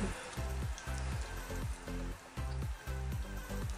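Popping candy, some of it chocolate-coated, crackles in a mouth with dense, rain-like fizzing, loud and close, the crackles swelling in regular pulses.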